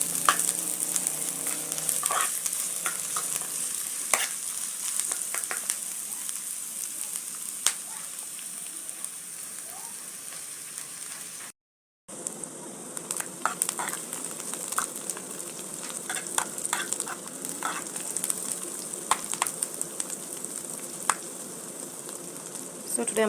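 Red onion frying in a pan, a steady broadband sizzle with small crackles throughout, briefly cut to silence midway before the sizzling resumes, close and fairly loud.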